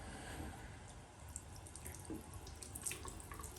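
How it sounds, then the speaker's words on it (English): Cold tap water runs from a faucet to wet an alum block, a faint, steady trickle with small splashes and drips standing out here and there. "you have to wet this with cold water"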